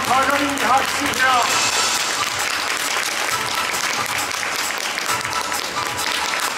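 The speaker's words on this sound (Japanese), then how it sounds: "最後は互いに拍手じゃ" A crowd claps steadily after a samurai warrior troupe's sword and martial performance at an outdoor show in Sapporo, sustained dense applause throughout, with voices calling out briefly near the start.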